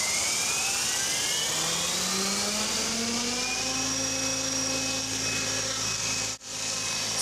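A motor-powered radio-controlled model helicopter flying acrobatics whines overhead, its rotor and motor pitch sweeping upward and shifting as it maneuvers, loud and continuous with a brief dip near the end.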